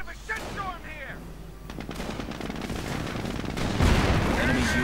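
Video-game battle with a Pershing tank and a sniper: dense bursts of gunfire and heavy booms, ending in a louder blast, under a commentator's voice.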